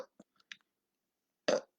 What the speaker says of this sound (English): I have to burp all the time,